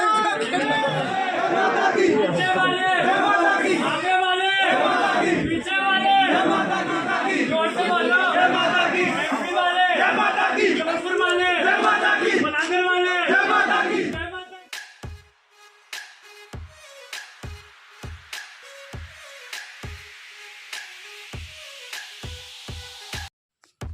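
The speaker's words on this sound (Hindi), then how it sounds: "हम मंदिर के शिखर पर जब पहुंचते हैं तो यहाँ पर भीड़ और भी ज़्यादा मिलती है।" Devotees crowding Sharda Mata temple in Maihar fill the air with loud, overlapping chatter for more than half the time. The crowd noise then drops away to sparse, sharp, evenly spaced clicks over a quieter background.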